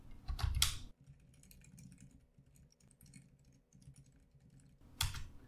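Typing on a computer keyboard in a terminal while creating a Django admin user, soft scattered key clicks between louder bursts of handling at the start and end, with no talking.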